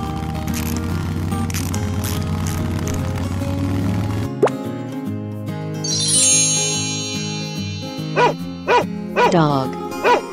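A dog barks several times in short, evenly spaced bursts near the end. Cheerful music plays underneath, in a children's animal sound game.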